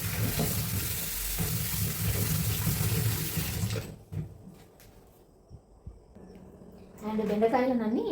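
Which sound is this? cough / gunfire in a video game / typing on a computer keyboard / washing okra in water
washing okra in water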